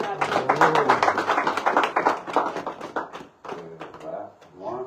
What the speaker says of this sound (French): Donc applaudissez-vous vous-même.